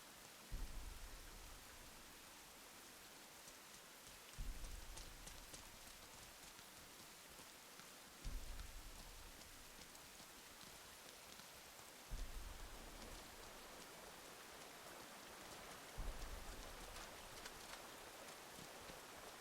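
Steady, dense rainfall in the video game Rain hisses evenly throughout, with a soft low thump recurring about every four seconds beneath the downpour.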